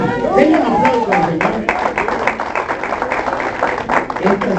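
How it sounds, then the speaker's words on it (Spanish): A church congregation claps together during a pastor's sermon, a loud, sustained patter of many hands with cheering and chatter mixed through it. "Tengan aplauso al"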